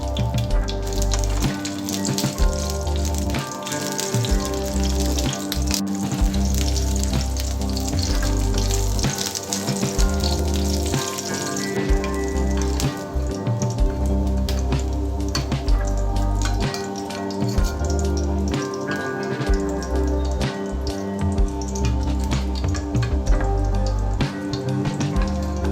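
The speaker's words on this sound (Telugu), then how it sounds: "ఆయిల్ వేడిన తర్వాత ఎండుమిర్చి, పచ్చిమిరపకాయలు ఫ్రై చేసుకోవాలి." Dried red chilies and green chilies fry in hot oil in a pan with a steady, dense sizzle and crackle that continues close and loud without a break.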